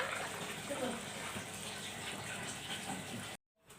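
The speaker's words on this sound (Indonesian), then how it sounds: "ini kita siram dengan air panas ya" Hot water gushes steadily over noodles in a bowl, a continuous splashing pour that stops abruptly near the end.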